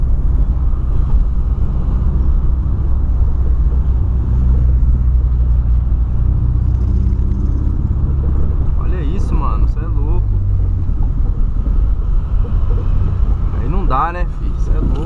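A Volkswagen Polo engine with a fault runs loud and close, rumbling unevenly with a misfiring, stuttering character throughout, while someone talks over it.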